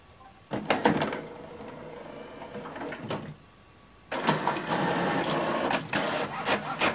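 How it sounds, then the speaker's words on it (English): An HP OfficeJet Pro printer runs a print job nearby, with bursts of mechanical whirring and feeding noise, a short quieter pause, then a longer stretch of steady, busy printer motor and paper movement. "This is the document we printed out from the mobile phone to this printer via Wi-Fi direct."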